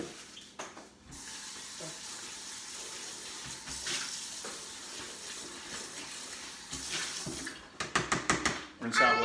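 Tap water runs steadily to rinse out a container while deer jerky is being made in a kitchen, with splashing and clatter near the end and a voice speaking over it.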